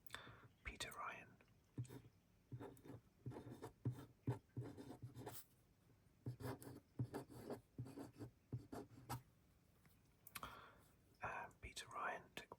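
Pen scratching out a list of Formula 1 drivers for the Canadian Grand Prix on paper, close and soft in repeated short strokes, with whispered voices running over much of it.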